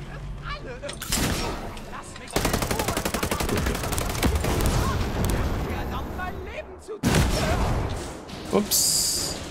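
Bursts of rapid gunfire crackle in a video game, with rattling automatic fire, a few louder booms, and voices talking over the shooting.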